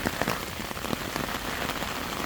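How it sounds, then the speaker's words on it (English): Heavy rain pours down steadily across Walsall Arboretum during a storm, a dense, loud hiss of drops striking surfaces with no break, filling the scene close by and alone. "Do it in the pissing rain"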